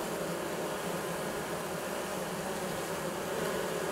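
A dense, steady buzzing drone of many honeybees in a hive around the queen, continuous and even, heard up close.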